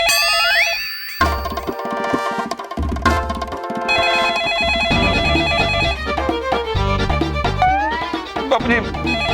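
A telephone rings amid dramatic music in a children's fantasy TV serial, a loud electronic ring joined by swooping sound effects and orchestral hits throughout the scene.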